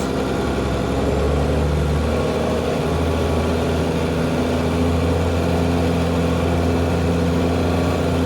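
A heavily loaded vehicle's engine labours on an uphill road near Antipolo, a constant low, strained drone that holds steady throughout without voices.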